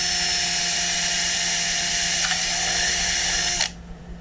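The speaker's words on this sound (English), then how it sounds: "Okay, drill the other side." A power drill bores through the soft plastic of a boat hatch latch on a workbench, a steady loud whine running about three and a half seconds before cutting off abruptly, with a faint ratcheting tick partway through.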